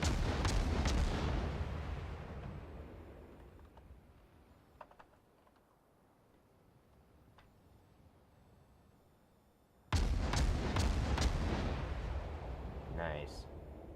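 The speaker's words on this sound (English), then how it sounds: "he's sitting here in his smoke cloud, firing his guns off" Warship guns firing in World of Warships ranked battle, two heavy booming salvos, one at the start fading slowly into a quiet rumble and another striking sharply later, with faint clicks in between.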